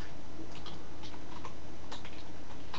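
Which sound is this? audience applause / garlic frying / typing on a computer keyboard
typing on a computer keyboard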